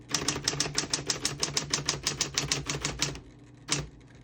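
Rapid, even keystrikes clatter from a 1960s Smith-Corona Coronet Electric portable typewriter, a fast run of about twenty crisp snaps up close, then a pause and one final louder strike.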